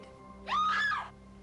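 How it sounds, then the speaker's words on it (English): Scream from the detective video game Scene of the Crime, a single short, loud rising-and-falling cry lasting about half a second over faint background hum. "Who screamed, Norman?"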